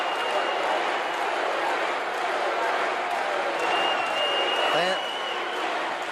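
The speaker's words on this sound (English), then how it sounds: "Fans are roaring for Duggan." Crowd at a Houston pro wrestling event roars and cheers in a continuous, broad wash of noise, with an announcer talking over it throughout.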